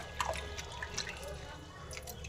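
Water poured over wild turkey berries being washed, with soft splashes and drips close by under a low background hum.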